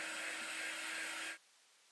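A dryer blowing air to dry paint on an upcycled thrift store piece, a steady loud whooshing hum that stops abruptly partway through, leaving quiet.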